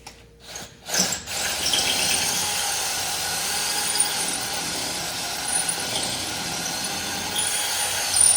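After a few short bursts, a power drill with a white drill bit runs continuously with a harsh, grinding whine, loud and close, without any talking, during work on a Peterbilt 389 truck.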